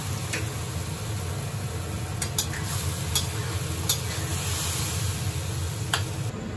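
Food frying and being stirred in a pan at home, with a steady sizzle running throughout and scattered light clicks of a utensil against the pan, and no voices.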